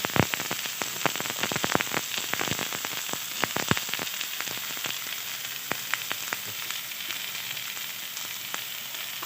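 Chopped onion and mixed vegetables dropped into hot oil sizzle and crackle loudly and steadily, with dense sharp pops throughout and no talking.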